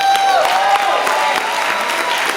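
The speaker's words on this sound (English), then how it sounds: "Y'all come on, clap your hands up" An audience claps at a Kwanzaa community celebration, a steady wash of many hands with sharp individual claps standing out and a thin tonal whistle or voice rising above it, close and fairly loud throughout.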